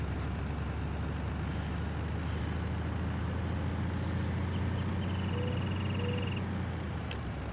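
A semi-truck hauling a trailer in Farming Simulator 19 drones with a steady low engine rumble, with a faint air-brake hiss and a few brief mechanical squeals over the continuous drive.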